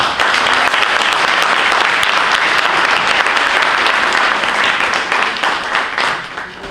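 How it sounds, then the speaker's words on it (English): A dense, steady round of applause from an audience at a Ramadan community program welcoming speakers, loud and sustained throughout before easing slightly at the end. "Please welcome them with a round of applause"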